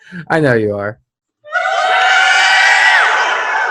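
A crowd reaction sound effect plays after a short burst of someone speaking: a loud, sustained wash of cheering and screaming voices that fills the rest of the moment.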